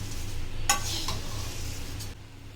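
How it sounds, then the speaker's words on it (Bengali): Jhal muri, puffed rice with chopped onion and coriander, is tossed and stirred in a bowl, giving a soft dry rustle with a few light clinks of a spoon, close and steady with no talk. "এবার ভালোভাবে মিশিয়ে নিচ্ছি"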